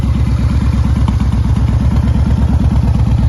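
Yamaha XV1900 Raider motorcycle, a US-market bike, with its engine and exhaust running in a loud, steady, rapid throb that holds an even rhythm throughout, with no talk.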